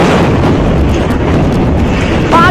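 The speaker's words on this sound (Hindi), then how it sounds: "पांचों टावर कैसे धूल में मिल गए, ये तस्वीरें देखिए आप गिनती करेंगे, 5 धमाकों की आवाज सुनेंगे" Demolition blasts bring down five towers in Al Sudaniya, heard as a dense, loud, continuous rumble of explosions and collapsing debris with no clear separation between individual booms.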